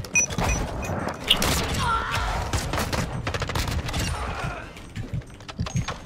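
Heavy shotgun blasts in a first-person shooter Search and Destroy match, several loud booming shots in quick succession with mechanical reload clatter between them, dense and close throughout.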